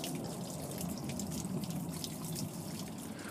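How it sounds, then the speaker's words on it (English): Outdoors on a mild day, water drains into a drain with a soft, continuous trickling and splashing, steady and moderately close, with no talking. "Water draining into the drain."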